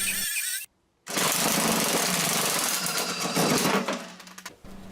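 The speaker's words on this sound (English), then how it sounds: "I can cut off all of the other bolts" Rounded bolts on the mower deck of a 43-year-old British garden tractor being cut off with a power cutting tool, a loud harsh grinding roar that briefly stops, then resumes for several seconds before winding down.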